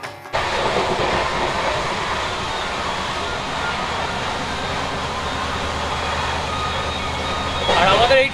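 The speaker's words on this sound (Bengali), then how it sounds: "একদম নতুন পরিষ্কার পরিচ্ছন্ন এলএইচবি কোচ নিয়ে উঠে চলেছে হরিদ্বারের দিকে" Kumbha Express running with new LHB coaches toward Haridwar, a steady loud rumble of rolling stock throughout with a brief rise in noise near the end.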